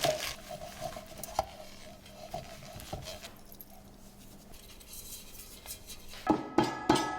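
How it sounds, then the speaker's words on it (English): A cake pan being buttered by hand, with light scraping and tapping of a utensil against metal, scattered clinks and a few louder knocks near the end, fairly close and quiet with no talking. "We are buttering this beautiful cake pan."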